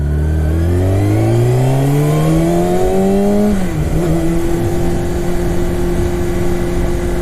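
A Kawasaki ZX-6R sport motorcycle engine revs up loudly and close, pitch climbing steadily for several seconds before dropping back and settling into a steady high idle drone.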